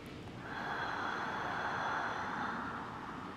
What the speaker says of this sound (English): deep exhale.